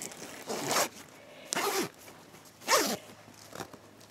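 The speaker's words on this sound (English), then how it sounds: "and when I zip it up" Three quick zips run along the zipper of a handmade knitted amoeba-style knitting bag about 20 inches long, each a bright rasping pull roughly a second apart, close and fairly loud in a quiet room.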